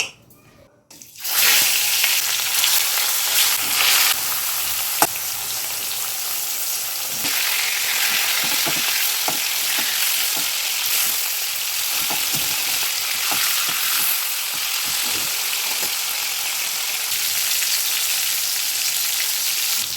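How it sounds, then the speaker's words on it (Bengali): Loud, continuous frying sizzle erupts after a brief quiet start, a dense hot-oil hiss with occasional pops and crackles close up. "তেল গরম হয়ে গেছে এবার মাছ দিয়ে দেবো"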